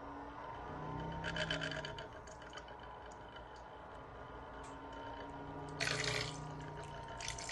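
A homemade stir plate driven by a 12-volt motor run at about 5.2 volts spins liquid with a steady low hum and faint swishing, while brief raspy rattles come and go.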